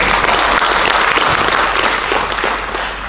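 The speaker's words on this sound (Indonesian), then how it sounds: "Tepuk tangan buat atlet kita." Loud, dense applause from a large crowd at an awards ceremony for athletes in Kutai Barat, Indonesia, sustained throughout and tapering slightly at the end.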